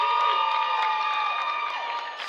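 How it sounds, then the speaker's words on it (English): Arena crowd at a live combat sports event cheering and whooping for fighter Dawson Singleton, a loud sustained roar with high shouts layered on top, continuous and dense throughout. "Listen to that crowd reaction, Drake, for Dawson Singleton from Training Grounds USA"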